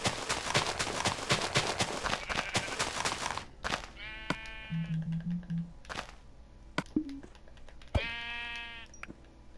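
Sheep in the video game Minecraft bleat several times, short wavering calls spaced apart, after a dense burst of clicking and tapping block-placing sounds.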